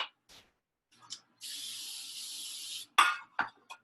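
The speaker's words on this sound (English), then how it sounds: "Sprayed with non-stick spray, lined in the bottom, good to go." Non-stick cooking spray hissing into a cake pan for a chocolate curry cake, one steady burst of about a second and a half, close and fairly loud, framed by light knocks and clinks of the pan.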